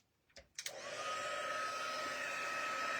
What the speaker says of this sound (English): it sounds just like a hair dryer